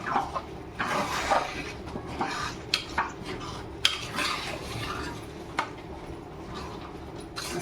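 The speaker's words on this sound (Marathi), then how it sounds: "आपल्या कढईला लागलं नाही पाहिजे म्हणून ढवळून घ्यायचं आहे" Jaggery and raw mango pieces stirred in a kadhai with a spoon, giving soft scraping and occasional sharp clinks of metal against the pan, steady and close with no talking.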